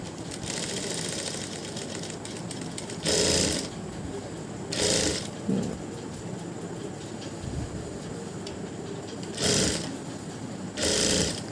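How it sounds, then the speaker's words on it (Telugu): Sewing machine stitching a narrow cord from a one-inch strip of gold tissue cloth, its motor whirring steadily and close by, with several brief louder bursts of faster stitching. "గోల్డ్ టిష్యూ క్లాత్తో తాడు కుడుతున్నాను"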